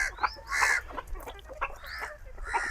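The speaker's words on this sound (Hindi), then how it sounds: "प्योर देसी मुर्गियाँ होती है ना, वो 10-12 साल तक जिंदा रहती है और अंडे देती है।" Desi hens on a poultry farm cluck and squawk close by in repeated short, excited calls, with several birds overlapping over a low background rumble.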